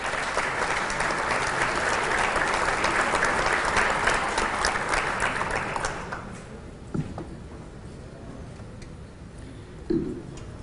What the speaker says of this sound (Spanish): Quisiera, por favor, que le dé una bienvenida con un aplauso a los panelistas del día de hoy